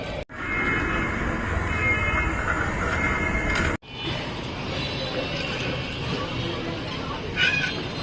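Trains at a busy Bangladeshi railway station in Rajshahi during Eid travel, a loud continuous rumble of rail cars and machinery, broken by a brief sharp cut, then ongoing station and train noise.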